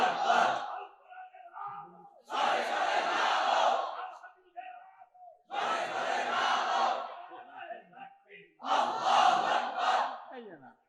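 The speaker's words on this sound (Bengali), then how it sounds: "মুরব্বী উঠি একটা তাকবীর দেন না" A crowd at a religious sermon chants the takbir in unison, four loud collective shouts separated by short pauses, the massed voices swelling and fading with each call.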